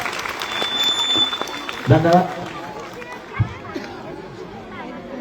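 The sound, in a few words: audience applause at temple festival performance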